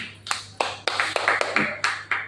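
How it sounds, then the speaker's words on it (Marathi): A crowd claps for an elderly patient at a therapy session, with eight sharp, evenly spaced bursts of applause over a steady low hum. "बाबांसाठी टाळ्या वाजवा बरं"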